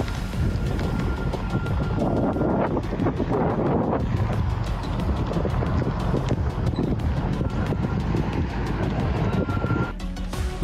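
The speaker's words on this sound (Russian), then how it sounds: "Ветер срывает старую кровлю и разносит ее по улице." Strong wind rips old roofing loose on a street, producing a constant blustery roar over the microphone with scattered flapping and clattering knocks until it eases near the end.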